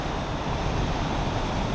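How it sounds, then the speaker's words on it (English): Ocean surf on the Northern California coast, a steady broadband wash of breaking waves with wind rumble over the microphone, loud and continuous with no voices. "This is actually really our first look at the ocean up here all the way in Northern California."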